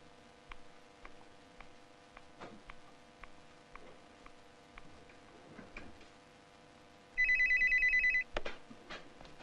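Old-style telephone bell ringing in a quiet office, one loud burst of electronic ringing over a faint steady clock ticking, with no talk.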